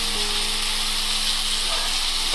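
Green peas frying in a pan for a peas gravy, giving a steady, loud, close hiss and sizzle that stays even from start to finish, with no talking.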